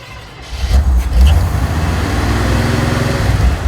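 A beater car's engine cranks, catches and fires up after an internal coolant leak repair, then settles into a loud, steady idle rumble nearby.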